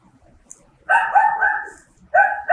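An AI robot imitates a dog with a few short, sharp electronic barks in quick bursts, close and loud against a quiet background.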